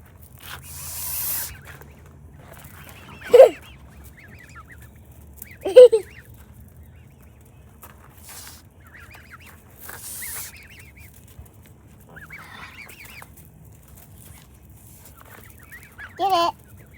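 Geese at a lake give a few scattered honks and harsh calls, short bursts spaced several seconds apart against quiet outdoor background, fairly close.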